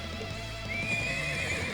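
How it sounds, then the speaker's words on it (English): Summoned thoroughbred war horses neigh in Trails of Cold Steel IV, a rising whinny over clip-clopping hooves and game music, clear and near. "So we can summon horses to help out?"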